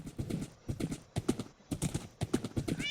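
Steady, rhythmic clip-clop of horse hooves in Minecraft, close and clear, ending with a brief high whinny-like tone.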